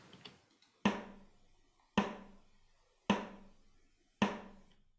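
Four evenly spaced layered snare drum sample hits, including a Bluebird snare, each sharp crack decaying quickly, sounding alone and fairly quiet.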